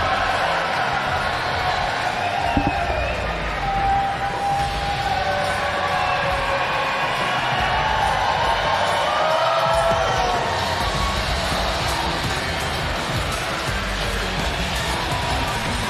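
A crowd at a timbersports event cheers and shouts in a steady, broad roar that holds throughout, with a few scattered whoops rising above the din.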